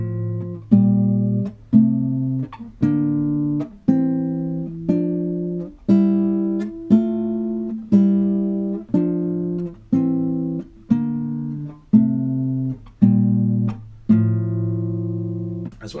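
Guitar playing a scale in thirds, two notes struck together about once a second, each chord ringing clearly and decaying before the next, steady and alone.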